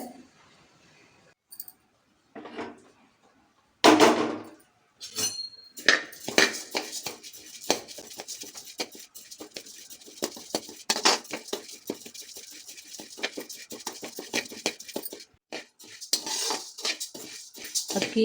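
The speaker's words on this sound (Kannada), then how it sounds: "ಹರಿಗಿರೋ ಅಕ್ಕಿಲಿ ಸ್ವಲ್ಪ ಅಕ್ಕಿ ತೊಗೊಂಡು ಹುರಿಬೇಕು" Rice being dry-roasted in a pan, heard as a busy run of light scraping, rattling and clinking from stirring, irregular and close, after a few sparse knocks at the start.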